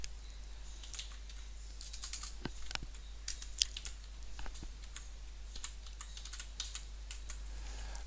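Typing on a computer keyboard while filling in form fields on a worksheet, with irregular bursts of soft key clicks over a steady low hum, close and fairly quiet, no voices.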